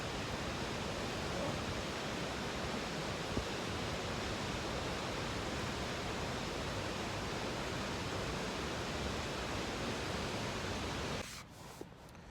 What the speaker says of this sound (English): Just sit back and enjoy a waterfall that is all for me.